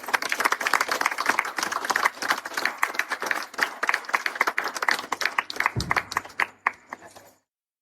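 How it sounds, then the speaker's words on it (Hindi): Guests applaud at a 25th wedding anniversary celebration, a dense burst of hand clapping that goes on for several seconds before tapering off and stopping. "ताली मारिए।"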